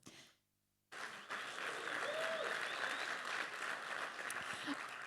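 Sustained applause from a conference audience at a tech event, starting abruptly after a brief silence and holding steady and dense to the end, with faint voices mixed in.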